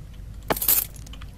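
Keys jangle once in the Layers of Fear video game, a brief bright metallic clink and rattle standing out over a quiet background hum.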